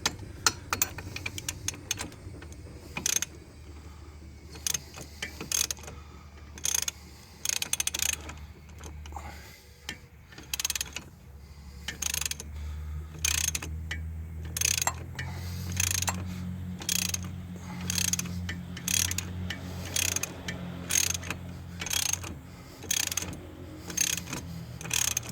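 A ratchet wrench tightens transmission bolts on a 2013 Nissan Murano during a CVT replacement, with rapid bursts of clicking separated by pauses and a low mechanical hum in between.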